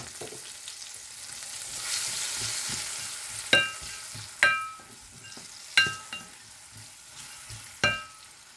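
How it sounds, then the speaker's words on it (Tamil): Chopped onion and green chillies sauté in hot oil with a steady close sizzle, punctuated by four sharp clinks of a spoon stirring against the pan at regular intervals, no talking. "இப்போ கட் பண்ணி வச்சுருந்த வெங்காயத்தை போட்டிருக்கேன்"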